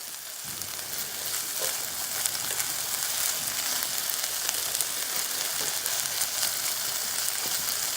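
Butter sizzling in a frying pan at a campsite before eggs go in, a steady bright crackling hiss that runs unbroken and fairly close throughout, with no talking.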